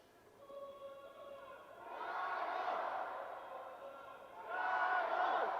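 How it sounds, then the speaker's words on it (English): A home crowd chants at an Asia Rugby Sevens Series match between China and its opponent, swelling waves of massed voices heard from a distance, rising twice to loud surges. "You hear the chant going here for the home crowd."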